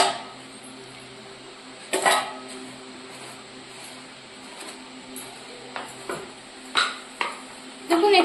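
Ingredients mixed by hand in a bowl while cooking, before oil is added: quiet scraping and stirring with several sharp clinks against the bowl, over a low steady hum.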